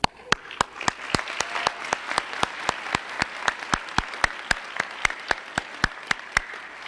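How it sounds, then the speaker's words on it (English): Audience applause at the 2013 Clinton School of Public Service commencement ceremony: sharp, evenly spaced claps close to the microphone ring out over a softer bed of crowd clapping, holding steady for several seconds. "Take a moment right now to applaud the parents, the siblings, the teachers, the preachers, the spouses, and the mentors who helped you become the graduates"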